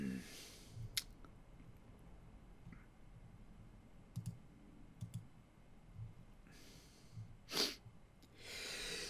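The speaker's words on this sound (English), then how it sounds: "So I apologize for sneezing in your ear." One sharp, close sneeze bursts out near a microphone amid quiet clicking and soft breathing noises, with other small snorts and mouth sounds scattered around it.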